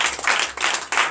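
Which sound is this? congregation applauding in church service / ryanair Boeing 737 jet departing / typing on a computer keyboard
congregation applauding in church service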